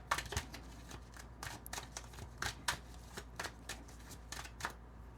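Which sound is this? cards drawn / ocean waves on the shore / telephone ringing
cards drawn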